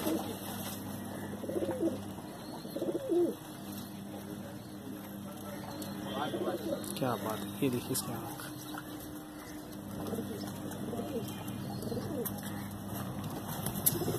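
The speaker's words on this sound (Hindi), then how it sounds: "तो ये मखियाना कबूतर है" A makhiyana pigeon, a male flying bird, gives soft, low coos in short repeated phrases, faint and close, while someone talks over it.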